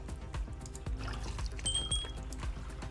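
Water being placed in the Roblox Islands game makes a soft liquid pour and trickle over steady game ambience, with faint tapping clicks and a brief high tone midway.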